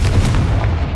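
A blasting spell in a Hogwarts video game goes off as a single heavy, booming explosion with a deep low rumble, loud and close, lasting under a second.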